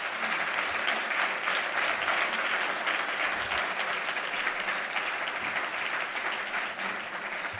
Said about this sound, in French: Je vous invite d'abord à donner une bonne main d'applaudissement à nos candidats.